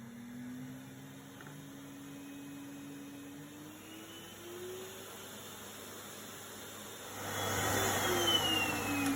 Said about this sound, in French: Notre parchemin va rester 1h30 sous la table aspirante